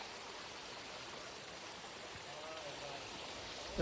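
During the monsoon, water flows continuously over rocks along the Girnar trail, giving a steady, even rushing wash that fills the whole stretch at moderate loudness without a break.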